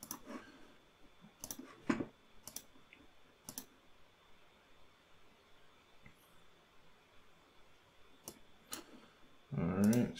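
A computer mouse gives a handful of sharp, sparse clicks in a quiet room, spaced irregularly, with a brief muffled rustle at the very end.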